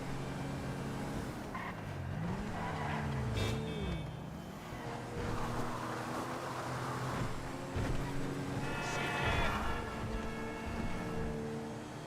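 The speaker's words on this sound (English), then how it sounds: "GTA 5 driving is so easy, man. Look how this car moves." A car driving in GTA 5 (GTA Online) runs as a steady engine drone with shifting pitch, revving up and easing off across the whole stretch, fairly loud with no talk over it.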